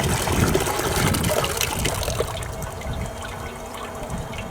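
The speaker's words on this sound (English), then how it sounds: "Now the water is drained out of the gold drop." Water draining out of a Goldrop sluice, a close, steady gurgling trickle and splash that slowly thins out as the flow eases.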